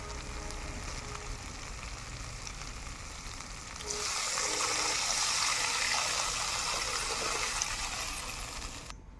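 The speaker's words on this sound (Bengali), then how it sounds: "এবার আমি পরিমাণ মতো ঝোল দিয়ে দেব।" Broth is poured into a pan of rohu fish curry with potatoes and spices, a close rushing splash over the pan's steady sizzle that gives way to a softer simmer at the end.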